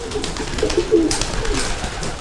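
Pigeons in a loft coo in a soft, steady low murmur of repeated throaty calls, close by over a constant faint background rustle.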